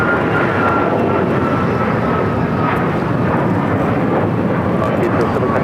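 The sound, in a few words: Alaska Airlines Boeing 737 MAX 9 taking off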